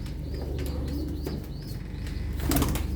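Pigeons in a loft of long-kept pure-bred Ankara birds coo in soft repeated calls over a steady background hum, with a few chirps and a brief wing flutter near the end.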